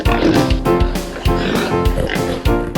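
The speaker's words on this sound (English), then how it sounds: "pigs! Yes, pigs!" Pigs oinking in a repeated series of loud, close grunts, roughly two per second, with no talking over them.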